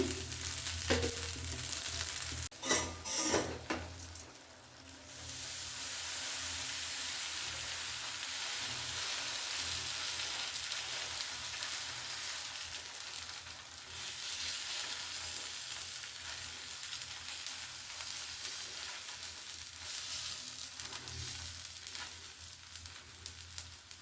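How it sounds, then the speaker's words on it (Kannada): Oil poured onto an onion and carrot dosa on a hot pan sets off a loud, steady sizzle that hisses continuously at close range, with a few sharp bursts near the start. "ಇವಾಗ ಅದ್ರ ಮೇಲೆ ಒಂದು ಸ್ವಲ್ಪ ಎಣ್ಣೆ ಹಾಕ್ಕೊಳ್ಳೋಣ"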